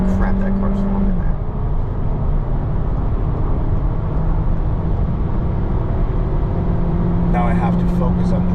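A car speeds along the German Autobahn at well over 100 mph, its engine and road roar loud and steady from inside the cabin, with a brief horn-like tone and a few faint voice fragments.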